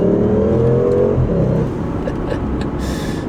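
V8 car engine revving, with a strong rising tonal roar for the first second and a half, then dropping away into a low rumbling idle, close and loud.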